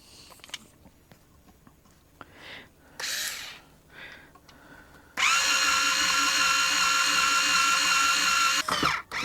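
A small handheld power drill spins steadily to loosen guitar strings on a guitar being revamped, a loud continuous whir running for several seconds after some quieter handling noises and ending with a brief stop.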